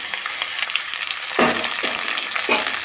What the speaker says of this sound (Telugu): ఇవి కూడా కాస్త ఫ్రై అయ్యేంత వరకు